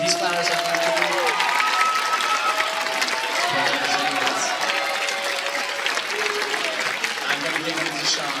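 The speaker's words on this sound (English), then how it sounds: "So can we give a round of applause to Mrs. Elliott?" Steady applause from a crowd at a high school band concert fills the room for a tribute to the band booster president, with voices talking and calling out over the clapping throughout.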